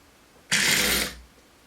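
A sewing machine stitches a short burst on a cardigan, giving a quick mechanical whir that lasts about half a second, sharp at the start, and then fades into quiet.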